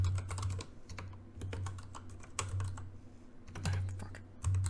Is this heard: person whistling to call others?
no